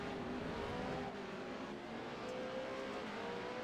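A Pro Lite Series racing truck engine as the driver lifts off the throttle on track: a faint, distant, steady engine drone with a slight pitch shift as the revs ease.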